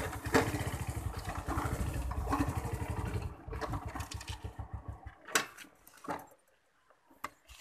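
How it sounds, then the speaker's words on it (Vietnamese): A Yamaha Sirius motorcycle engine runs rough in gear with a fault, a close, pulsing chug that jerks and surges, then dies away with scattered clanks and near silence. "Xe giật này các bạn"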